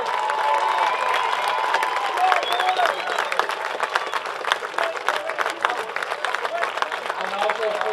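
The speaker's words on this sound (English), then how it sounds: "How about a round of applause for the Eugene Challengers?" A crowd claps and cheers for the Eugene Challengers after an American Legion baseball regional championship game, sustained dense applause with whoops and shouts, while an announcer's voice carries over the noise.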